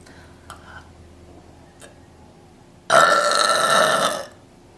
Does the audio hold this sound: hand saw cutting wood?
no